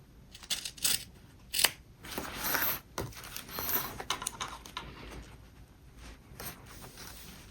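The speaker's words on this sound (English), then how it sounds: "We are going to cut away that zipper." Scissors snip through fabric around a zipper in a series of close, crisp cuts with short pauses, some strokes drawn out into longer slicing sounds.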